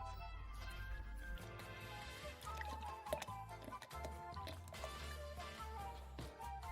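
Heavy cream is poured into salted artichoke puree, giving faint liquid trickles and soft squishy drips over quiet low background music throughout.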